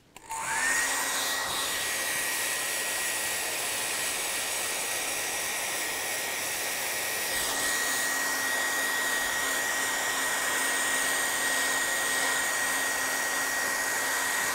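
A hair dryer blows over fresh paint on a wooden stencil, a steady loud whir with a high whine that runs without a break from start to end, heard alone with no talk.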